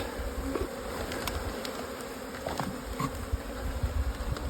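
Bees buzzing inside a hive box, a steady close drone with faint rising and falling hums and occasional brief clicks throughout.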